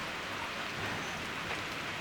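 Heavy rain pours steadily onto rain barrels at an off-grid wilderness cabin, a dense, continuous hiss of drops close by with no break.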